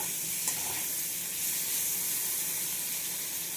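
Bitter gourd fries in a pan with a steady, close sizzle that holds at an even level throughout.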